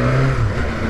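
A 2021 BMW S1000R motorcycle engine revs hard at high rpm, a loud, close, continuous mechanical roar with a steady tone lasting about a second.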